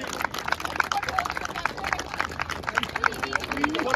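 Children's winning team at a cricket prize ceremony is cheered with fairly dense clapping from a crowd, continuous and lively, mixed with background chatter and voices.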